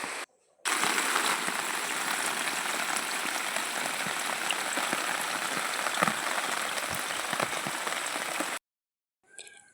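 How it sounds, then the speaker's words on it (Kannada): Heavy rain pours down steadily in a rural village, a dense continuous patter and hiss on surfaces that starts abruptly, holds for about eight seconds, then cuts off. "ನಾವು ಅಂದ್ಕೊಂಡಿರಲಿಲ್ಲ ಇವಾಗ ಎಷ್ಟು ಜೋರು ಮಳೆ ಬರುತ್ತೆ ಅಂತ ಹೇಳಿ"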